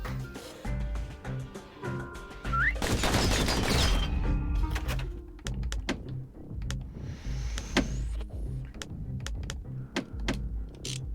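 Customized pistols fire in a shootout in the video game Bastion, sharp shots cracking over a pulsing game soundtrack, with a dense burst of rapid gunfire around the middle.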